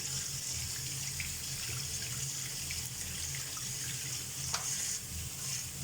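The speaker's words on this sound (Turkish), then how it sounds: "Bunu böyle özellikle yıkıyorum" Peas are rinsed under a running kitchen tap, a steady close hiss of flowing water splashing into a sink with no pauses.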